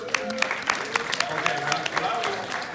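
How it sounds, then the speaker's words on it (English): Audience applauds law students at the Jazz for Justice 2018 event, with a burst of clapping and crowd noise, cheers and murmured voices mixed in throughout. "Can I just have a round of applause for law students?"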